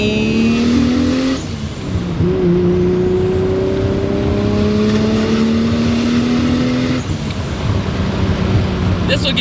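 Turbocharged 1JZ engine in a Mitsubishi Starion revving loudly and steadily, pitch climbing through long pulls with a brief dip between, heard close from inside the car.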